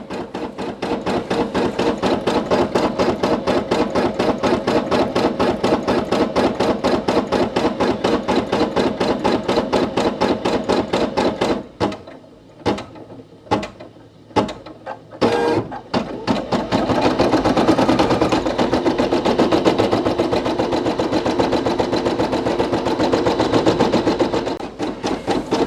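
Brother PE800 embroidery machine stitching a satin stitch on a patch, a loud, steady rapid needle chatter that pauses briefly midway with a few isolated knocks, then resumes its dense mechanical rhythm.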